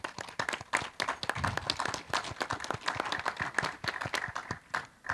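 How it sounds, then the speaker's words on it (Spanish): An audience at a panel event on tax matters gives a round of applause, with distinct individual hand claps in an irregular rhythm, moderately close and sparse rather than a thick roar. "un aplauso, por favor"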